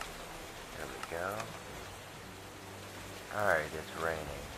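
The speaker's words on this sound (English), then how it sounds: "Alright, it's raining." Steady, hissing rainfall in the Minecraft video game runs throughout the clip, with someone talking over it.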